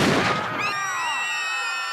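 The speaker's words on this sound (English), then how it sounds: "The deafening burst of the gunshot" A deafening gunshot sound effect in a dramatized war story: one sharp loud blast that decays into a long ringing, whining tail.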